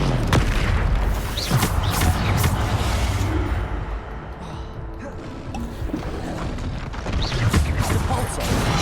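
Depulso force spell cast in the Hogwarts Legacy video game amid a loud magical duel, heavy booming impacts and crashing blasts recurring throughout with dense game noise and sustained rumble.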